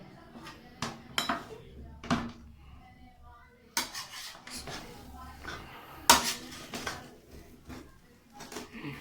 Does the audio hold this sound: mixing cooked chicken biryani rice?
yes